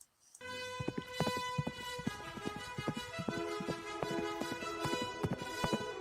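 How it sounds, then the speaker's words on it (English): Galloping horse hoofbeats from The Lone Ranger intro pound in a fast, driving rhythm under a loud, bright orchestral fanfare, starting abruptly after a brief silence and continuing throughout. "A fiery horse with the speed of light, a cloud of dust"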